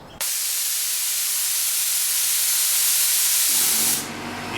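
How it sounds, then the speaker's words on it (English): A water spray bottle sends mist into the air in one loud, continuous hiss lasting several seconds, starting abruptly and then cutting off to a quieter background hum. "I'm gonna spray it in the air first"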